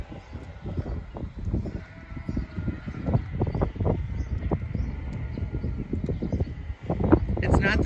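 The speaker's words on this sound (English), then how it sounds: "It's not the souls of the damned that you hear. It's just sheep." Sheep bleat repeatedly on a farm at Rennibister Earth House in Orkney, Scotland. The calls are loud, uneven and overlapping, with some voices and faint background noise.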